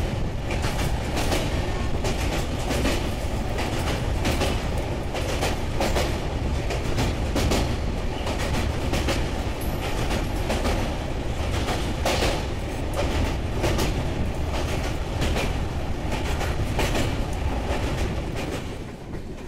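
An express train crosses the Bally (Vivekananda) rail bridge, heard from on board as a loud, steady roar with a continuous rhythmic clatter of wheels over rail joints that lasts throughout.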